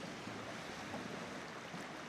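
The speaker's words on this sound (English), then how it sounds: "It's kind of loud now when the waves are going." Surf rushes steadily onto a shore at night, a broad constant wash of churning water heard close and fairly loud, with no voices.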